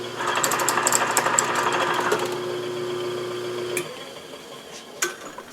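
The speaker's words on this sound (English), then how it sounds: "then I start the milling" An Atlas horizontal milling machine with an end mill in a collet runs with a rapid rattling mechanical chatter, then winds down into a low hum and stops, followed by a few faint clicks, close and without talk.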